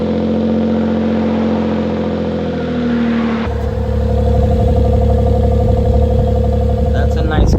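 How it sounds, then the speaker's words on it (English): Suzuki Jimny JB23 engine cold starts and runs at a steady, fairly loud idle, its exhaust rumble heard from close by, with a voice briefly speaking over it. "That's a nice cold start."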